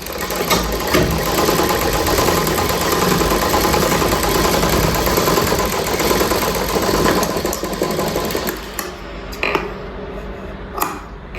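A sewing machine stitches piping onto blouse cloth with a steady, rapid mechanical whir for about eight seconds. It then slows into a few short bursts before stopping, close and alone.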